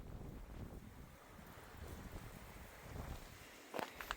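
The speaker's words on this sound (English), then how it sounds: "It is so windy and cold." Faint gusty wind buffeting the microphone in low rumbles, rising and falling, with a brief rustle near the end, on a cold day in the White Tank Mountains, Arizona.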